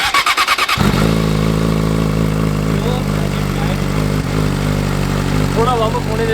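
A Yamaha R6 motorcycle engine cranks with a few rapid stuttering bursts, then catches and settles into a loud, steady idle close by, with occasional small blips of throttle and a voice speaking briefly over it.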